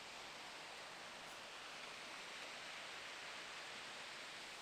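Falling water from a waterfall below a wooded hiking trail on Old Loggers Path makes an even, hissing roar. It is continuous and unvaried throughout, with no voices.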